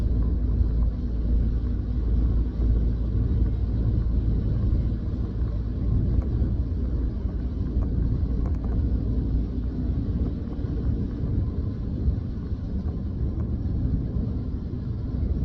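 A truck with a 500 hp engine pulls a dropside superlink trailer along a road in Zimbabwe, giving a steady, loud low rumble of engine and road noise that holds evenly throughout.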